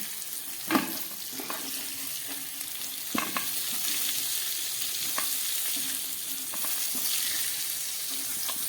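Continuous oily sizzle of potatoes and pointed gourd frying in oil in a pan, with occasional scrapes and clinks as they are stirred.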